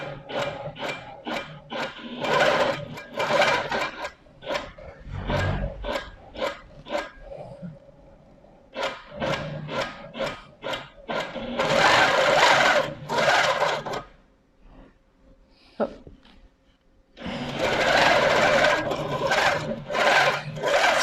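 An embroidery machine stitches in fast rhythmic bursts of needle strikes, with short pauses and a longer gap in between. The sound is close and fairly loud, and nobody speaks.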